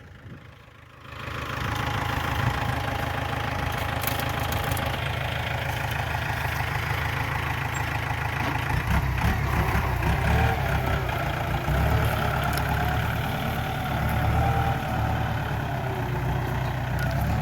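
A Kubota L4508 tractor fitted with a sugarcane grab loader runs its engine near and loud, a steady rumbling idle that swells into sustained revving after a brief quiet start.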